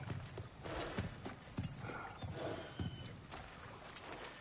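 A horse in God of War Ragnarok shifts and steps close by, making a run of rhythmic hoof clops with a faint snort over soft ambient game background.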